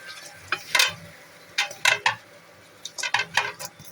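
Potatoes and carrots are stirred in a frying pan, a spatula scraping and clattering in short irregular bursts close up, with a soft sizzle between strokes and no talking.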